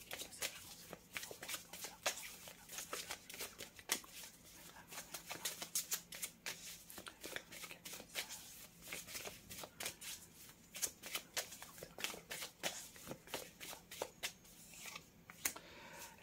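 Oracle cards are shuffled by hand in a quiet room, giving soft, continuous riffling and flicking with light papery slaps throughout, faint and close with no talk.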